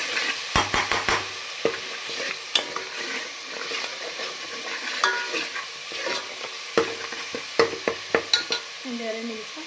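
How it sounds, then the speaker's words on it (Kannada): Mutton keema masala with chili powder frying in oil, a continuous sizzle broken by repeated sharp scrapes and clinks of a spoon stirring against the pan, close and fairly loud. "ಫ್ರೈ ಮಾಡ್ಕೊತಾ ಇದ್ದೀನಿ ನೋಡಿ,"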